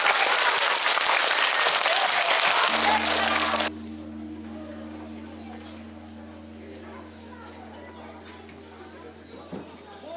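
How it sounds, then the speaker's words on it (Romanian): An audience of children at a children's show claps loudly and densely for almost four seconds, then stops abruptly, leaving a low electrical hum and quiet room noise. "Atunci haideți să aplaudăm cât mai tare!"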